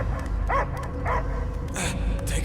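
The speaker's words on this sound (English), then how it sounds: "I hear only barking." Dog barking in the Guardians of the Galaxy game, a few short yelps and barks spaced apart over a steady game soundscape, moderately loud and close.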